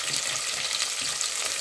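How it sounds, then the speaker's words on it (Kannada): Sliced onions frying in hot oil in a pan for vegetable pulao, a steady close bright sizzle running without a break. "ಈರುಳ್ಳಿನ ಬ್ರೌನ್ ಕಲರ್ ಬರೋವರೆಗೂ ಎಣ್ಣೆಯಲ್ಲಿ ಈ ಥರ ಚೆನ್ನಾಗಿ ಹುರ್ಕೋಬೇಕು"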